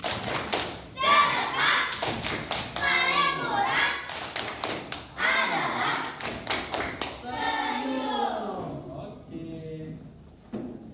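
Schoolchildren in a classroom civics lesson perform a rhythmic smile clap chant, bursts of sharp group claps in patterned sequences alternating with their chanting voices, ending with a teacher's quieter speech.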